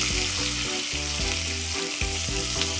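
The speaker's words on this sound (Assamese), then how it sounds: "তেলখিনি গৰম হওঁতে মই পাঁচফোৰণ তেজপাত আৰু পিঁয়াজখিনি দি দিলোঁ" Onions, bay leaf and panch phoron fry in hot oil in a kadai, giving a loud, continuous sizzle with a steady crackle and no talk over it.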